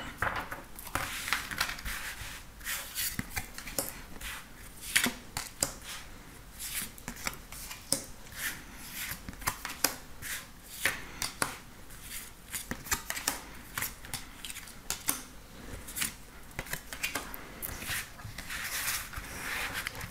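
A tarot deck is shuffled by hand for a card reading, with rapid, close, crisp riffling and slapping card sounds that repeat continuously in quick bursts.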